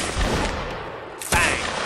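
Musket fire in the video game Mount & Blade: Napoleonic Wars, a muffled crackle of distant shots followed by one sharp, louder report near the end, with rumbling battlefield noise underneath.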